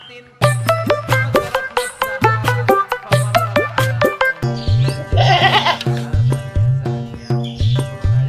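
A goat bleats repeatedly up close, loud wavering cries in a regular series, with a few faint bird chirps in the background and no talking.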